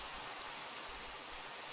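Rain in a video game, a steady faint hiss of falling water, even and continuous without any voices.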